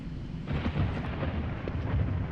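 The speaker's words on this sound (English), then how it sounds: "That was thunder." Low rolling thunder in a Unity-made atmospheric horror game, a rumbling grumble that swells and fades at moderate loudness with no voices over it.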